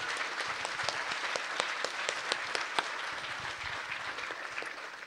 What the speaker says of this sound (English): Can we get a round of applause for these awesome people?